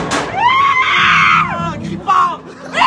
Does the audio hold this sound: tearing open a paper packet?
no